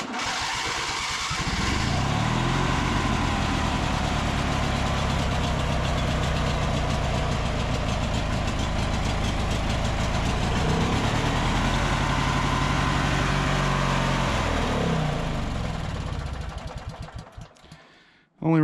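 A motorcycle engine with a clogged carburetor idles roughly at full choke, close and loud, its uneven chugging holding steady for about fifteen seconds before sputtering out.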